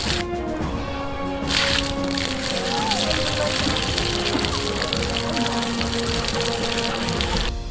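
River water is drawn up with a drum pump and rod, a continuous splashing and pouring flow with clattering handling sounds and faint voices in the background.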